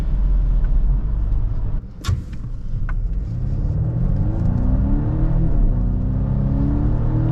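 A 2024 Volvo S60 B5 AWD accelerating on winter roads, a steady loud engine and road rumble heard from inside the cabin, with the engine note rising in pitch as the car gains speed.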